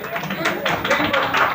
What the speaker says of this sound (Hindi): तालियां मत बजाया करो।